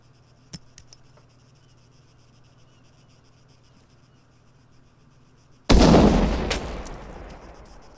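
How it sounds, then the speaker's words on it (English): A thrown grenade in a video game explodes downrange: near-silent ambience with a few faint ticks, then a single sudden loud blast that rumbles and decays over the final two seconds. "I'm going to throw a grenade out into the range at those 3 targets, downrange"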